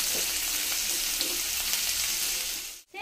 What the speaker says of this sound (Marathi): सेम पॅन मध्ये लसूण, आलं टाकणार आहोत तेलावर।